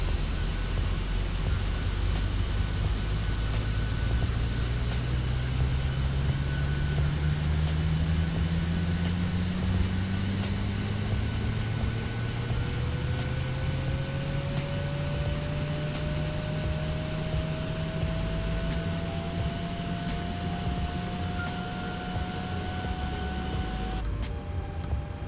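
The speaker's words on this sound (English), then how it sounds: "Good APU sounds as always" Steady, loud whine of the APU on an iFly 737 MAX 8 in MSFS2020, a continuous drone with slowly rising tones that holds throughout, with no talking.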